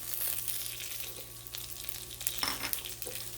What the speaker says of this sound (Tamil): நல்லா வாசனை வர்ற வரைக்கும் வறுத்துக்கணும்.